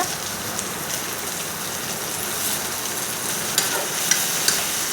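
Onions and curry leaves sautéing in a pan with tomatoes going in, a dense continuous sizzle heard close up, with a few faint scrapes and pops near the end and no talking.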